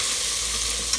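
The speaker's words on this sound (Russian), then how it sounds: "И немного пассируем, перемешивая все." Onions and carrots sizzle steadily in a hot pan, a close, even frying crackle with a soft clink of stirring at the very end.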